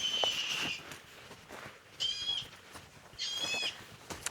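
Bird-of-prey calls play from a speaker box mounted somewhere overhead to scare off birds, three shrill, harmonic screeches separated by short pauses, heard at a moderate distance over faint background noise.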